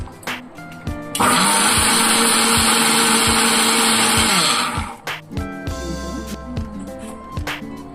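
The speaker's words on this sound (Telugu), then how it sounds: "ఇది కూడా మనం మిక్సీ తిప్పుకోవాలి" A mixer grinder blending cucumber chutney whirs loudly for about four seconds, a steady high motor roar, then stops, followed by clattering and handling sounds.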